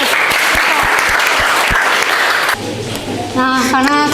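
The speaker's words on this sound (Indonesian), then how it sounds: "Tepuk tangan dulu anak-anak." Applause from a room of schoolchildren fills the first half, loud and steady with scattered sharp claps, then cuts to quieter chatter and a voice speaking.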